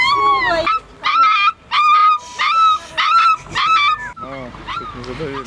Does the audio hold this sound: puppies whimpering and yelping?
yes